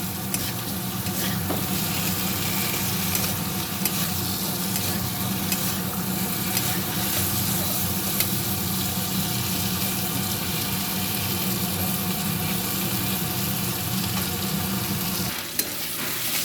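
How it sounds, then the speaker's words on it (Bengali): Diced potatoes and yams fry in a pan with a loud, continuous sizzle, broken by scraping stirs throughout. The hiss stays close and even until it drops off near the end. "আমি এর মধ্যে দিয়ে দেবো এটাকে আমি ভালো করে একটু ভেজে নেবো"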